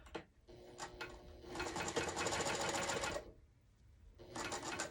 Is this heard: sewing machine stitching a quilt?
yes